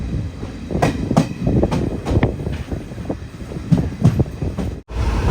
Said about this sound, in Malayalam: ട്രെയിൻ ഇപ്പോൾ 100 km/h സ്പീഡിൻ്റെ മുകളിലാണ് പോകുന്നത്.